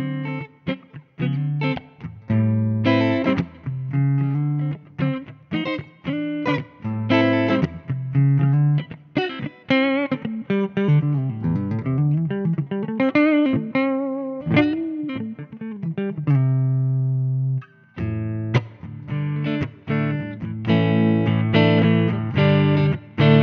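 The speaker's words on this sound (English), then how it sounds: "we're just going to play a little bit so you can hear the amazing warmth of these old tubes and the sound." Electric guitar played through a 1968 Fender Princeton Reverb vintage tube amp, warm and full-bodied, with continuous melodic phrases and sustained chords over about twenty seconds, loud and close, no talking.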